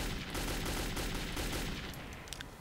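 Gunfire in the video game Metro 2033, a sustained, dense burst of automatic fire that fills the whole moment, loud and continuous before easing slightly at the end.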